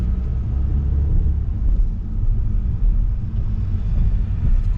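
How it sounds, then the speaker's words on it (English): An old lorry rumbles along the road nearby, a heavy, steady low engine drone with road roar that holds level for the whole stretch. "Look at that old truck."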